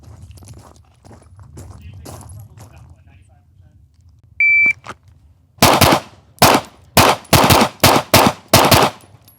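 In a timed pistol shooting drill, an electronic shot-timer beep is followed about a second later by a fast string of roughly eight loud, sharp gunshots, with faint voices beforehand.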